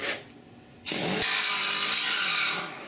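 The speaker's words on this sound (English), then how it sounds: "I grind down the weld kind of like I'm cutting, and then use it as a grinder to grind it down" An angle grinder whines loud and steady for about two seconds, grinding down the back side of a weld on a rusted core support patch for a 1969 Chevrolet C10, after a brief quieter moment.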